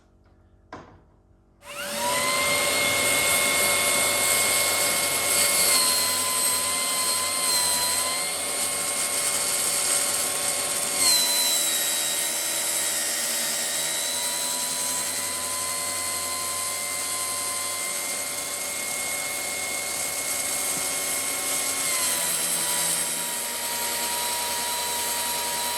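Power saw cutting shower pan enclosure material during a lavatory installation, a loud steady high-pitched whine that starts abruptly after a brief knock and runs continuously, with slight pitch dips as the blade loads.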